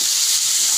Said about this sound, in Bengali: দেখো এইখানে কড়াতে তেল হয়ে গরম করেছি, করে তাতে পেঁয়াজ আদা রসুন সরু করে কেটে ভেজে নিচ্ছি।